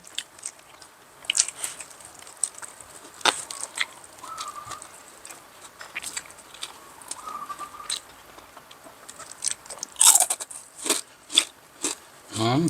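Crisp, crunchy bites of grilled frog being chewed up close, sharp crackling bursts scattered irregularly, with a dense cluster near the end, over a quiet background with no talk.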